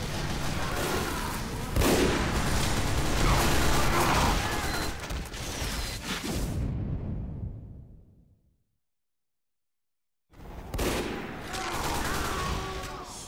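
Sentry gun firing in Team Fortress 2, dense rapid bursts of gunfire and booms that cut to silence for a couple of seconds before the shooting resumes.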